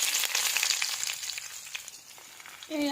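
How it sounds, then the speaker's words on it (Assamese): Onions fry in hot oil with whole cumin and garlic, a steady close sizzle that softens slightly toward the end before a brief metallic clink; no one speaks. "পিঁয়াজখিনি অলপ ভাজি লৈছোঁ।"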